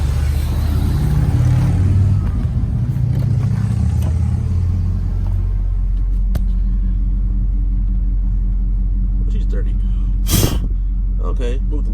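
A car engine idles while warming up, with a steady low rumble throughout and a brief louder burst near the end.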